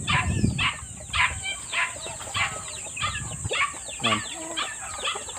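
Chickens cluck and call repeatedly close by at their new roosting shelter on a farm, a busy overlapping flock sound with a brief spoken word among them.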